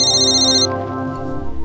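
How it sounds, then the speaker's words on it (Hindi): A phone ringtone chimes loudly in a quick musical pattern, a bright tone briefly on top before the lower melody carries on alone. "आपका फ़ोन हमेशा गलत वक्त पे क्यों बजता है?"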